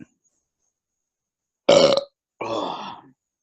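Two loud, close burps, a short sharp one followed after a brief pause by a longer, rougher one, with no other sound around them.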